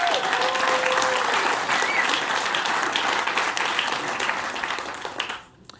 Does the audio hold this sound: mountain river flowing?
no